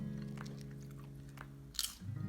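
Crispy baked banana chips with pandan being chewed close up, with soft crunches and biting sounds and one sharper crunch near the end, heard quietly alone without talk.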